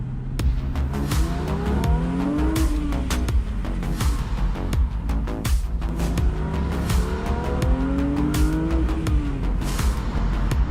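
A 2020 Porsche 911 Speedster with a GT3 engine drives past houses, its engine note repeatedly rising and falling through gear changes, loud and close with sharp bursts throughout.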